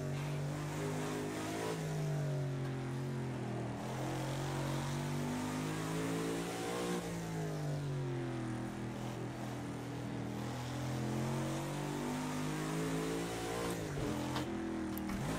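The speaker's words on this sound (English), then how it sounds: "Quick third gear back into second." A Lotus 40 race car engine in a PC racing game, revving hard and continuously, its loud droning pitch rising and falling through gear changes with a quick downshift near the end.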